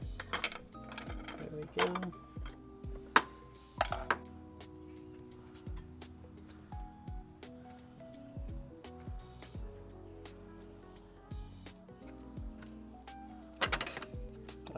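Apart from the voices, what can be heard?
removing reverse-threaded fan nut from a BMW E36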